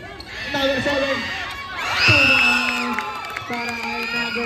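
Parents shout and cheer loudly at a kids' division basketball league finals game, with sustained whoops and yells swelling from a crowd in an indoor gym, close and boisterous.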